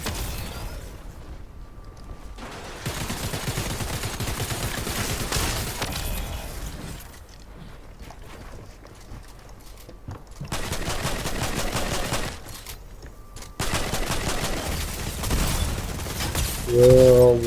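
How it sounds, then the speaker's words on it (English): Sustained gunfire from a weapon in a video game, long stretches of rapid automatic shots broken by short pauses, loud and close with dense rattling bursts. "Dude, this gun doesn't stop shooting."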